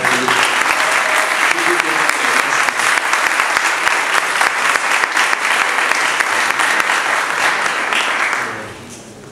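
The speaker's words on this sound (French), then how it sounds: "donc un tonnerre d'applaudissements à chaque fois que..." Sustained, loud applause from a large audience at the 2018 David Campbell Trophy awards ceremony in Paris, dense clapping throughout that tapers off near the end.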